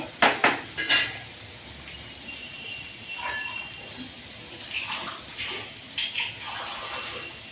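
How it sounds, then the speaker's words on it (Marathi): A few quick splashes of water hit a hot pan of cooking kantroli (spiny gourd), followed by soft sizzling and faint stirring noises close by. "आता मी ह्याला ना पाण्याच्या हटके मारते"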